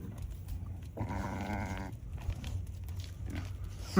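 A pig on a rain-soaked, flooded farm gives one drawn-out, nasal call lasting about a second. Faint snuffling and shuffling of other livestock follow, then a short sharp noise at the end.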